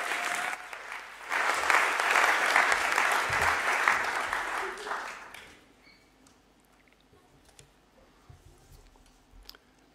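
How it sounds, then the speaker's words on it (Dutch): Warm audience applause greets poet Erik-Jan Harmens at an awards-night stage event, loud dense clapping for about five seconds that fades into a quiet room with scattered small noises. "En ik wil een heel warm applaus voor Erik-Jan Harmens."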